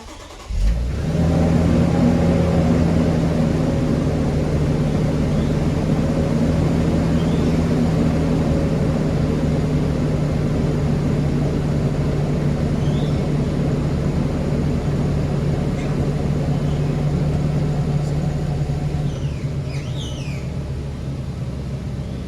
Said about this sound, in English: There it is, the beautiful startup of this LX600.